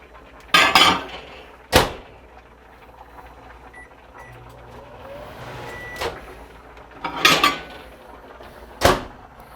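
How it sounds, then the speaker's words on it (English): A spoon stirs a salted caramel whey mixture in a bowl, giving several separate scraping clatters spaced seconds apart, with quiet gaps and faint background hum between them. "Gonna give it another stir"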